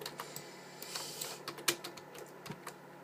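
Computer keyboard keys clatter in quick, irregular taps and clicks during keyboard-and-mouse play of Black Ops 3, close and fairly soft, with no talking.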